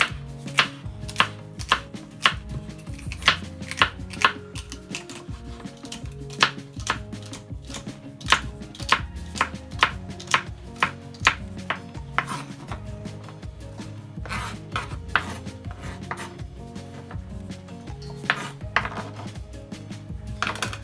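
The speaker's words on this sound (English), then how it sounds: "We have 1 stalk of celery. We're gonna cut it up as well." A stalk of celery is chopped on a cutting board with a knife, a rapid, steady run of crisp close taps that continues throughout with only brief pauses.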